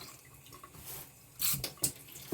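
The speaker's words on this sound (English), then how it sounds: "So I'm going to add the water and get that up to just about the bottom." Water is poured into a rock tumbler barrel during the pre-polish stage, giving a soft trickle followed by a couple of louder splashing gushes close by.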